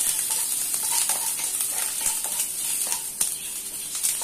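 Ginger and green chillies sautéing over a low flame in a pan, giving a steady soft sizzle with occasional light scrapes and clicks of stirring throughout.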